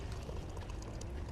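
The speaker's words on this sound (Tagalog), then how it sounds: "naglalagay na siya ng tubig para pakuluan" Water pours steadily into a pot in a continuous splashing gush, close and fairly quiet, with no pauses.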